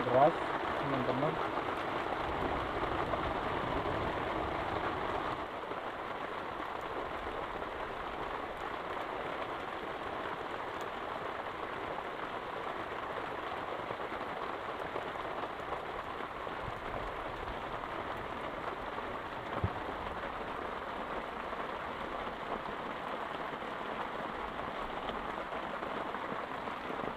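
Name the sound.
heavy rain outside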